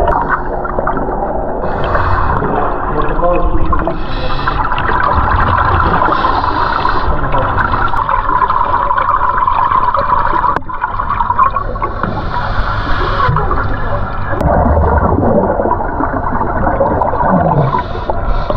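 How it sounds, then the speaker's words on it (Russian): Kids taking their first scuba breaths underwater at an oceanarium, heard as loud, steady underwater breathing with gurgling bubble bursts and low rushing water throughout. "Сейчас ребята пробуют дышать. Первые попытки под водой."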